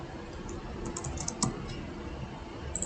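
Java code being typed on a computer keyboard, a quiet, continuous patter of key clicks with a few slightly sharper taps, heard alone without talk.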